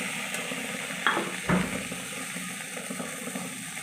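Ginger paste sizzles in a hot pan while pulao is being cooked, a steady sizzle broken by a couple of sharp spoon clanks against the pan.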